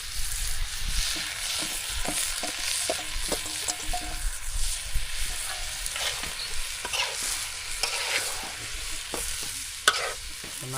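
Rice, potatoes and spices are stirred in a pot for khichuri, made with aman rice and masoor lentils. Repeated scraping and knocking of the spoon sits over a continuous light sizzle, up close and without talk.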